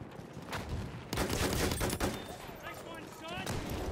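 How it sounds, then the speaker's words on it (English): An enemy machine gun fires in a Battlefield video game as sustained loud bursts over dense battle noise. Voices talk amid the shooting. "Enemy machine gun over there."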